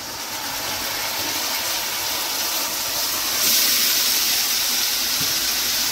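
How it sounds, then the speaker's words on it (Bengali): Marinated mutton hits a pan of reddish fried onions and sizzles in a loud, steady hiss that swells slightly partway through, close up with no talk, while mutton pulao is cooked. "এখন এই ম্যারিনেট করা মাংসটা আমি দিয়ে দেবো এর মধ্যে, এইভাবে ঢেলে দিয়ে দেবো।"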